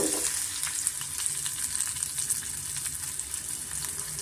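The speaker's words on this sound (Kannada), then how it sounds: "ಇವಾಗ ಇದಕ್ಕೆ ನಾನು ಈರುಳ್ಳಿ ಸೇರಿಸ್ಕೊತಾ ಇದ್ದೀನಿ" Onions frying in hot oil in a pan, a steady, close hiss and crackle of sizzling that runs the whole time with faint stirring, no one speaking.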